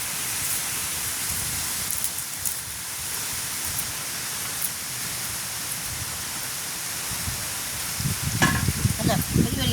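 Onions and green chillies fry in a single pan, a dense and continuous sizzle that stays close and steady, then grows louder and more crackly toward the end.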